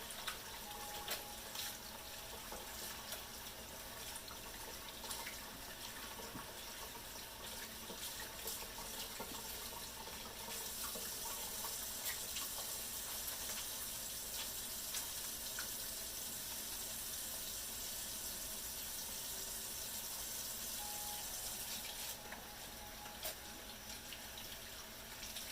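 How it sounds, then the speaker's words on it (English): Hands being washed under a running kitchen tap, a steady faint hiss of water pouring into a sink that carries on throughout with slight shifts in level. "I'll wash my hands off."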